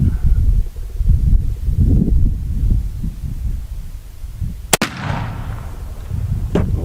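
A single sharp, loud rifle shot from a 45-90 Gemmer test load cracks out mid-clip, with a second fainter report near the end, over steady outdoor wind and handling noise.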